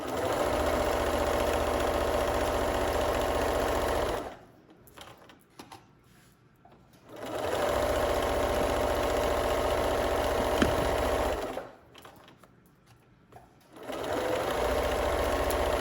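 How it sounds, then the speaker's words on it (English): A sewing machine stitches ribbon onto a houndstooth hooded towel, running in two long steady bursts of rapid mechanical whirring separated by quiet pauses, then starting again at the end. "Sewing it on both sides of the ribbon."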